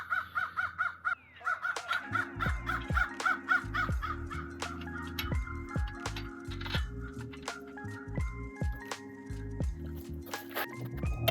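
A crow caws repeatedly in quick rhythmic bursts, fairly close and clear, mixed with clanks and knocks of brake work on a car nearby.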